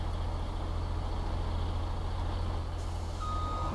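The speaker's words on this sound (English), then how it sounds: "we'll just back the lorry onto the platform" Reversing beeps from a lorry backing onto a platform in Farming Simulator 17, a steady alarm pulsing over a constant low diesel engine drone, with no voices.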